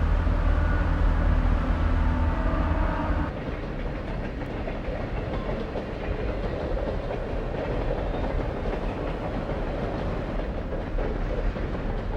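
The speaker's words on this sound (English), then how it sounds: "a Rio Grande freight negotiates the S-curve past a coal mine at Castle Gate" A Rio Grande freight train rumbles steadily through an S-curve past a coal mine at Castle Gate, with continuous rolling clatter and a low engine drone that shifts midway, sounding fairly close throughout.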